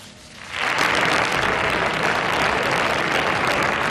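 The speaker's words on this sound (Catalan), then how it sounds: "Entre aplaudiments ha rebut el grup popular al president Camps" Parliamentary applause from the Popular Party group greeting the Valencian president Camps in the chamber, swelling in after half a second into a loud, dense, sustained burst of many hands clapping that continues steadily to the end.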